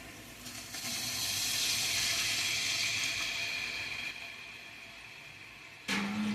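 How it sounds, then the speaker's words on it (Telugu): Water poured into a large pot for cooking a big batch of rice pulav, a steady rushing splash that swells, tapers off, then ends with a brief louder gush and clunk. "5 లోటాల రైస్కి 10 లోటాలు వాటర్ వేస్తున్నాను చూడండి"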